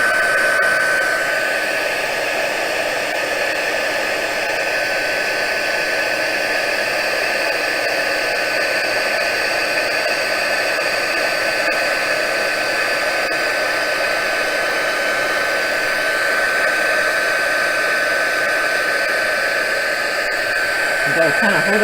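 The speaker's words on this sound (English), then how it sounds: "Bring in the heat tool, and we will heat set that powder." A heat tool melting embossing powder on a Christmas craft project blows a loud, constant whooshing roar with a faint steady whine, running unbroken for the whole stretch without speech.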